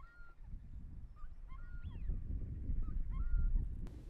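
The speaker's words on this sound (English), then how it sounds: "Widgeon often sound like they're in a spaghetti western, firing off pew pew calls like high-pitched gunshots." Several short, high whistled wigeon calls ring out over a low background murmur at an estuary, spaced irregularly across a few seconds.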